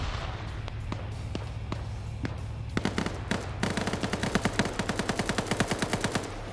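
Gunfire in a shooter video game match: scattered single shots at first, then a rapid burst of evenly spaced automatic fire dominating the second half, loud and close over a steady low hum.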